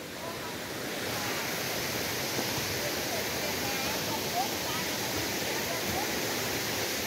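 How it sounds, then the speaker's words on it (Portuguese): Steady, loud rush of a mountain waterfall in the Itaipava highlands, a dense continuous roar of falling water with wind buffeting the microphone, heard up close. "a gente vai para a parte alta da cachoeira"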